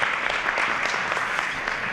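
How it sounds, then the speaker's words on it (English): An audience at an elementary school evening assembly for young writers claps steadily in dense, sustained applause that fills the room throughout. "let's have a round of applause for Mrs."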